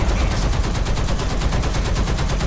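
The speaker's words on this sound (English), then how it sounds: "Where's my machine gun shooting?" Sustained machine-gun fire from a tank in War Thunder, a rapid, steady stream of shots running without pause, loud and close.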